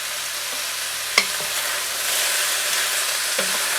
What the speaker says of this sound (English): And it says to cook it for 5 minutes until it starts to get a little color to it.